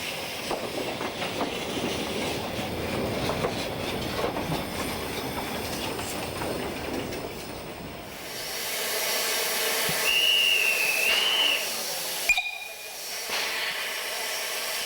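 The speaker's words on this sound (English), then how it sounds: "the other type of articulated locomotive of the Meyer design" A Meyer-design articulated steam locomotive runs with a steady rumbling, hissing chuff that swells after the midpoint, joined by a high squealing whistle-like tone and a sharp clank near the end.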